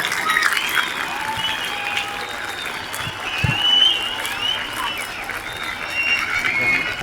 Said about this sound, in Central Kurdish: چەپڵە بەهێزەکانتان بۆ مامۆستا ڕێبوار.